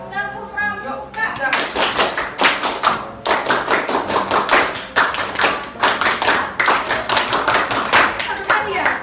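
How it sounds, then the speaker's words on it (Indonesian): A classroom performs the scout clap, many hands striking together in quick rhythmic bursts of claps with short pauses between groups, loud and close, after a brief spoken lead-in. "Tepuk pramuka, siapa yang pramuka di sini? Tepuk pramuka."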